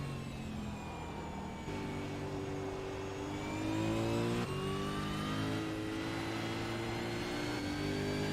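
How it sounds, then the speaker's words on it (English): A roughly 500-horsepower race car engine, built like a Skip Barber racer, drones loudly and steadily in iRacing at Bathurst, its revs climbing and shifting as it pulls along, with no talking. "it sounds like it's a Skip Barber with 500 horsepower and a nicer sounding engine"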